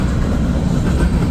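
CSX tanker freight train rolling past at night in rain and high wind, a loud, close, continuous low rumble of heavy cars and wheels on track, with no voices present.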